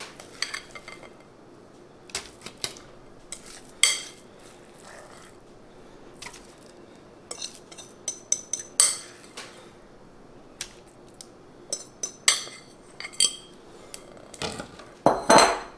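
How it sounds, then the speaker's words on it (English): Pecan pie crust being laid and pressed into an 8x8 baking pan, heard as sparse, faint taps and light clinks scattered across a quiet kitchen background. "I'm going to lay the crust out in the 8x8 pan"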